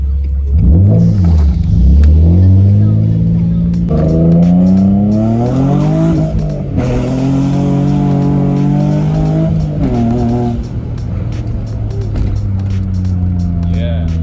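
A Nissan 350Z with a VQ35DE engine, fitted with a new intake and plenum spacer, revs loudly and close, its pitch rising and falling through several throttle blips, with a voice talking over it.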